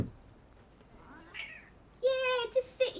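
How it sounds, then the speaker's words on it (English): A pet cat gives a drawn-out meow followed by two short chirping meows, close and clear indoors, after a quieter stretch with a faint voice. "Oh, my cat came back."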